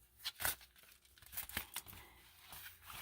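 A junk mail window envelope is torn and opened by hand, with close papery ripping and crinkling in a few quick bursts and no speech.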